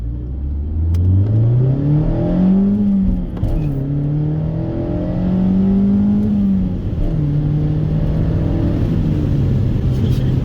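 A Toyota Yaris engine revs through a short, gentle acceleration pull, the tone rising and falling through gear changes, close and loud with no talking.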